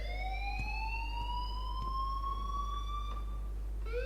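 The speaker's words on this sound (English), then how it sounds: "please turn off that alarm since that's your job." A wailing alarm in Life is Strange rises steadily in pitch, loud and continuous, with faint clicks and a deep hum underneath.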